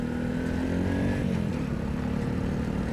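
A 2021 BOOM BD125-2 125cc motorcycle engine drones steadily while riding, holding an even, close, continuous hum with little change in pitch.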